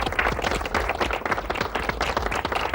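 Audience clapping at a political gathering, a steady, dense burst of many hands applauding loudly and continuously with no talk over it.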